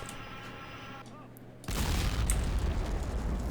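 A HEAT tank shell fires and strikes in the Men of War tank battle between a T-90 and an M1A1 Abrams: quiet ambience, then a sudden loud boom that rolls into a sustained dense rumble of blast and debris.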